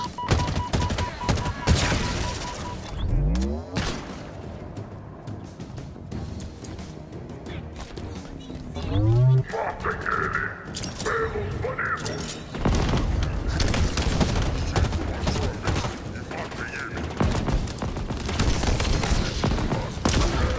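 Heavy gunfire and booms from a powerful weapon in Halo Infinite, dense bursts of shots with explosive impacts and crashes spread across the stretch, loud and busy, with a brief quieter lull in the middle.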